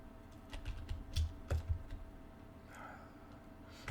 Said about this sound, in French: On entend beaucoup trop mon clavier